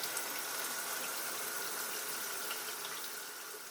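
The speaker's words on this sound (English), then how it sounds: "drain as much water as possible by opening the fixtures" Water drains from opened household plumbing fixtures, a steady hissing gush that stays even throughout and eases slightly toward the end, with no voices.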